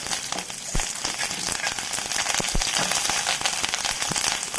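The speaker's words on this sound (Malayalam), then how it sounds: "അപ്പോൾ കടുക് പൊട്ടി തുടങ്ങി, അതൊന്ന് പൊട്ടി. അതിനുശേഷം ഞാൻ കുറച്ച് കരിവേപ്പില ഇടുകയാണ് ഇതിൽ." Mustard seeds and curry leaves sputter in hot oil for a masala curry, a continuous hiss of frying with scattered sharp pops and crackles, fairly quiet and without speech.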